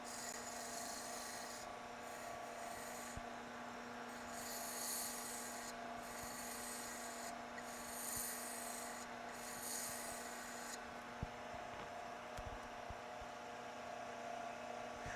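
Wood being sanded by hand with sandpaper to work out sanding marks, a steady soft rasping scrape in repeated strokes, with a constant low electrical hum behind it.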